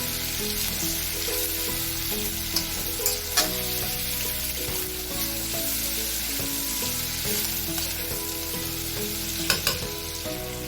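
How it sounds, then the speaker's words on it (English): Sliced carrots, red pepper and other vegetables sautéing in a wok, a steady loud sizzle with occasional clicks from stirring, close and continuous with no talking, while soft background music plays underneath. "Stir very well, letting the vegetables saute in the wok."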